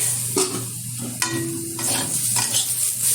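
Potatoes and cauliflower stalks crackle in a pan on low heat, a close frying hiss under several sharp metallic scrapes and clinks as they are stirred.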